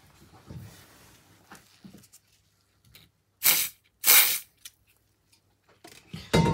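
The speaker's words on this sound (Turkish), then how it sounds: "Bu spreyi sıkmamız gerekiyor." Two short bursts of aerosol spray hiss close by, separated by a brief pause, with faint handling noises before and after.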